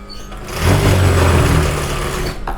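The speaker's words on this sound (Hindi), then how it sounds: "इन दोनों पल्लों को रखते हुए साथ में मिलाते हुए इसके ऊपर सिलाई मारेंगे" A sewing machine stitches buckram onto lehenga panels in one short, loud, close whirring run that swells, holds, then winds down.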